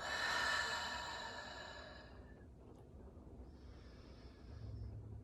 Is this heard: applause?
no